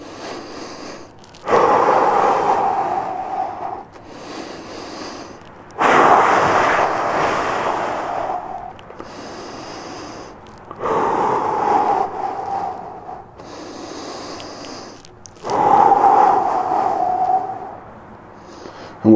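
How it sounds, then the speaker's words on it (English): Slow, deep breaths held through a stretch, four long airy exhalations or inhalations spaced several seconds apart with quiet pauses between, close and fairly loud. "we're going to hold this for 10 deep breaths in or 60 seconds"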